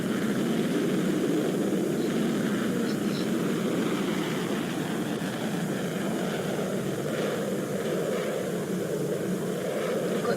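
Broad, steady engine roar of a video-game airplane, a black bird jet, coming in to land, droning loud and unbroken with no speech over it.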